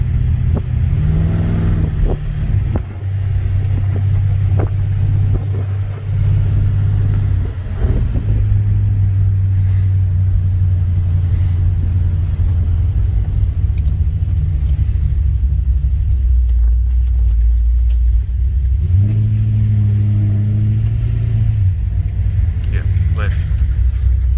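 A 1970 Holden HG GTS Monaro with a 350 V8 rumbles along from inside the cabin, its deep engine note rising and settling through gear changes while people talk over it.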